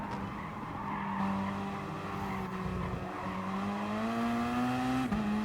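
Gr.3 race cars at Blue Moon Infield in Gran Turismo Sport, a steady engine whine rising in pitch with a sustained tire squeal through a corner, moderately faint and continuous.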